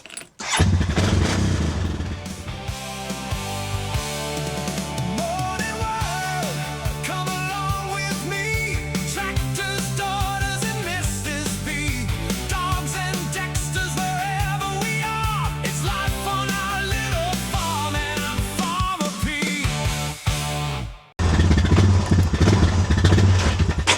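A motorcycle engine being started on choke and revving, loud and close with a busy mechanical clatter, cutting out briefly and then running again at the end.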